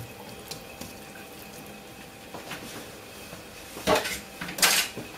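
Drained vegetables, cauliflower for a mousse, are tipped back into a bowl, with soft kitchen shuffling followed by a couple of louder clattering dish knocks near the end.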